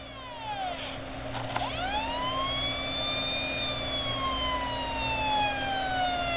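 A Federal Signal PA2OA Interceptor siren box sounds with no speaker attached, its thin electronic wail sweeping up and down in long slow cycles, steady and fairly loud over a low hum, with no talking.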